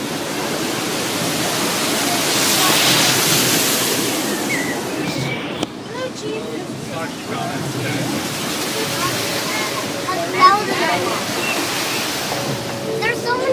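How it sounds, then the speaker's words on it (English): Waterfalls rushing beside the Disneyland Railroad route form a steady broadband wash of falling water, swelling slightly midway, with faint scattered background sounds and no clear talk over it. "There's so many waterfalls."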